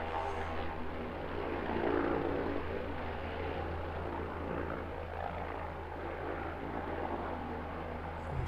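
An aircraft takes off from a taxiway at East Midlands Airport, heard as a broad, steady engine roar at moderate distance that holds fairly even throughout with no voices.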